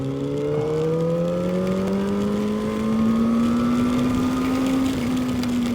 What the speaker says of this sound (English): as I ride this beautiful CFMOTO in twisties